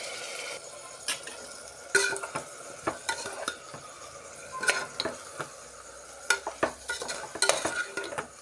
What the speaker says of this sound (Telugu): ఒక నిమిషం పాటు ఈ రైస్ని వేయించుకోవాలి.